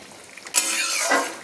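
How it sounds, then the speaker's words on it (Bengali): A Bengali sour curry of fried bata fish with potato, cauliflower and eggplant bubbles in a pot, starting with a sudden burst of hissing, seething noise that stays steady and close. "দেখুন কি সুন্দর ফুট উঠেছে।"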